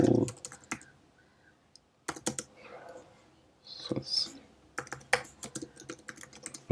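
Fingers typing text on a computer keyboard, quiet clustered key clicks in short bursts with pauses, close and soft, with faint whispery speech between.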